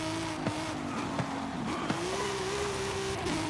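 A 2019 BMW Z4 Roadster driven in the video game Forza Horizon 5, engine holding a steady strong drone with brief dips at gear shifts and a rising pitch toward the end, no voices.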